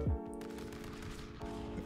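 Gunfire from a powerful gun in the Stick Fight video game: a rapid, loud burst of machine-gun shots in quick succession, following a sharp initial hit, with a second flurry near the end.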